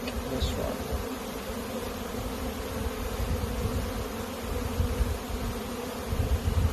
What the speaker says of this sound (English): we're just going to shake the bees off of this one